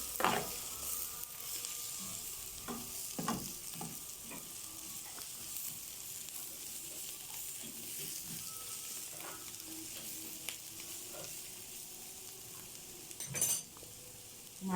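Shawarma spices stirred in a hot frying pan, with a steady sizzle of frying throughout and scattered clinks and scrapes of a utensil against the pan, heard close and without talk.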